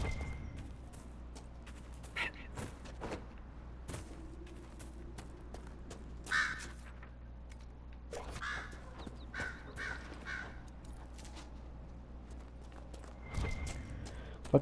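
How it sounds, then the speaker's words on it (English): Crows caw several times in Dragon Age: Inquisition, scattered calls over a steady low game ambience, with a clip-clop of hooves in places. "Fucking crows."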